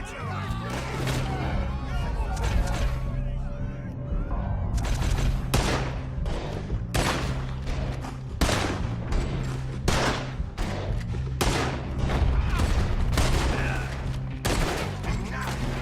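Gunfire in Red Dead Redemption 2 fills a shootout: repeated sharp shots, some in quick clusters, ring out close and loud over a low musical drone, with shouted voices mixed in.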